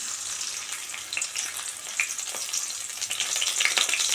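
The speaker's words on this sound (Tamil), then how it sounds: "நல்லா எண்ணெயிலேயே நல்லா பச்சை பச்சை போகிற அளவுக்கு நல்லா ஒரு நிமிஷம் வதக்கிக்கலாம்" Crushed garlic, curry leaf and green chili paste sizzles steadily in hot oil in a pan, a continuous bright frying hiss with small pops, growing slightly louder toward the end, no talking.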